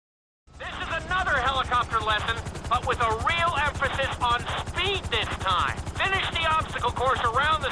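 Helicopter in Grand Theft Auto V flight school, a loud continuous rotor drone with rapid rhythmic blade chop, close and steady, with a voice talking over it.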